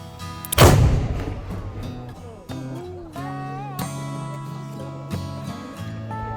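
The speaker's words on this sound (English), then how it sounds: "when was the last time you saw the actual cannon fire without hurting anyone?" A historic fort cannon at Vesting Bourtange in the Netherlands fires a gunpowder shot, one sharp, loud boom that quickly fades, followed by a background of steady music tones.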